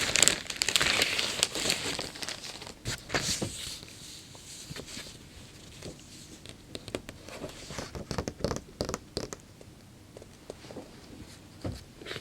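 Padded envelope handled and opened, close crinkling and rustling of paper and bubble padding with scattered taps and rubbing, irregular and fairly quiet throughout.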